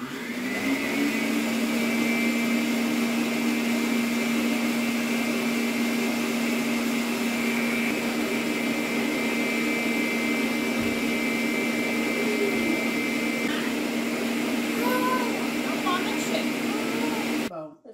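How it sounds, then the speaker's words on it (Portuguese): An electric stand mixer whips cake cream with a steady, loud motor whine running almost unbroken throughout, the tone holding even from start to finish. "Eu vou deixar bater até ficar um creme,"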